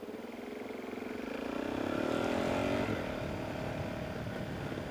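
Motorcycle engine droning steadily while riding in the rain, a close, continuous hum that rises slightly in pitch as it accelerates, with wet road wash underneath.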